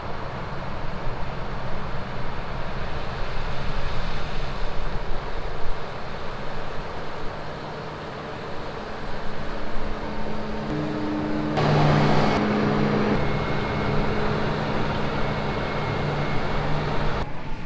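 A tractor engine drones steadily as heard from inside a heated cab during harvest, a constant low rumble with a brief brighter swell partway through and no voices.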